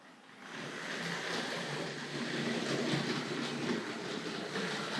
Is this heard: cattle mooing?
no